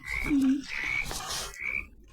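Three croaks from a frog in a video game, each a short, rising tonal call, come at an even spacing and sound clear and close over a soft background hum.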